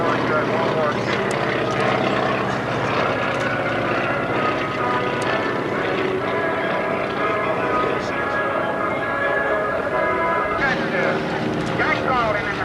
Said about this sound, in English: This is one of the largest collections, ladies and gentlemen, of AP-6s that you'll see in flight for the military